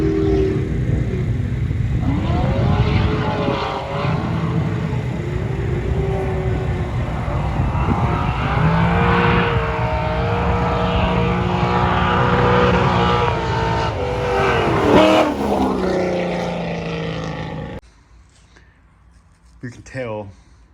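A C5 Corvette drift car with an LQ4 V8 suffering low oil pressure roars loudly and continuously, revving up and down for most of the run before cutting off abruptly, with a few faint bumps after.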